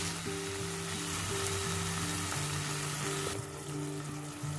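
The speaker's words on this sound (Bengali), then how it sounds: "অল্প জল দিয়ে আমি একটু এটা কষিয়ে নিলাম" Mixed vegetables sauté in a pan with a little water, giving a continuous close sizzle and bubbling hiss, with faint tonal hums running underneath and a brief dip in the frying noise toward the end.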